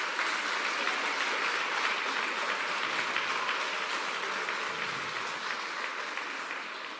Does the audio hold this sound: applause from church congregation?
yes